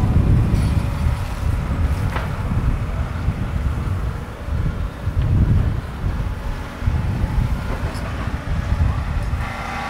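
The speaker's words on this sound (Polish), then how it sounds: "Strasznie tutaj wieje wiatr." Strong wind gusts buffeting a microphone among abandoned Cadillacs and other American cars in Fukushima, a continuous low rumbling roar that swells and dips in waves throughout, loud and close.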